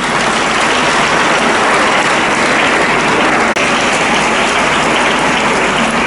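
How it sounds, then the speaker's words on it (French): A large crowd applauds at a memorial gathering attended by the Congolese president. The sound is a loud, continuous, rain-like wash of clapping that stays even for about six seconds, with one brief dip partway through. "Applaudissez s'il vous plaît."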